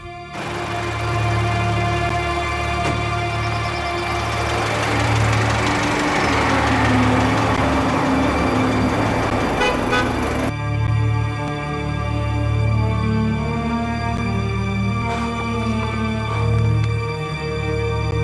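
An old car's engine drones steadily while driving through a city, a close mechanical hum with whining harmonics that swells in the middle and then drops back to a lower, even idle-like tone, with no voices.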